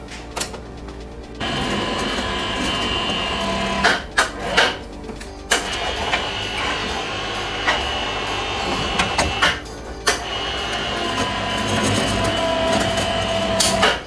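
A Dewalt DCF900 cordless impact wrench drives an M24 bolt at a 1400 Nm setting, giving a sustained loud mechanical hammering rattle with sharp impact bursts recurring through the run. No one speaks.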